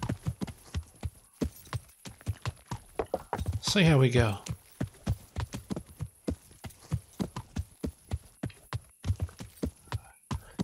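Horse hooves clip-clop steadily at a walking pace while riding in Kingdom Come: Deliverance, close and rhythmic throughout, broken briefly by a horse's whinny near the middle, with someone speaking a few words.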